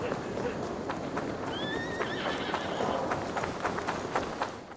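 A mare whinnies and gallops in the Assassin's Creed Valhalla video game, with a rising neigh over a steady drumming of hooves and a busy in-game background, with speech-like sound under it.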